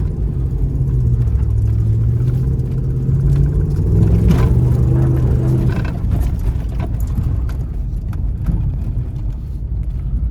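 A Ram pickup truck drifts with stability control switched off, its engine a close, continuous low rumble that swells and falls as the revs climb and ease over about ten seconds.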